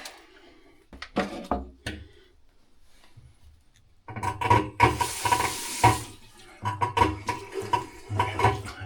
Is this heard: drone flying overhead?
no